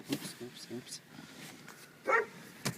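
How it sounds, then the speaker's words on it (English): Dogs barking in the distance in short, faint bursts, with a louder yelp near the end, mixed with a voice talking in a quiet room. "My dogs are having a conniption because someone is running."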